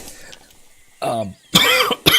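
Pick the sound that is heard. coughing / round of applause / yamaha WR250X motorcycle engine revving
coughing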